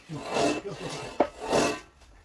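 Metal pipe sliding back and forth inside a homemade telescopic mast for a wind turbine, giving two rasping, rubbing strokes with a brief clank between them, close and fairly loud.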